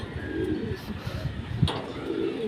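Soft, low cooing of a pigeon or dove, repeated a few times against a steady background hum, with a brief knock midway.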